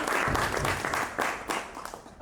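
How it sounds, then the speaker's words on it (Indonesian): Audience at an evening literary appreciation event bursting into lively applause, a full burst of clapping that swells and dips in waves over a couple of seconds. "Kita tepuk tangan dulu sekali lagi yang meriah."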